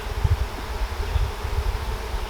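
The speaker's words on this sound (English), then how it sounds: "There's tons of bees in here." Honeybees buzzing in an open beehive during a spring inspection, a dense low continuous hum close by with slight rustling, no talking.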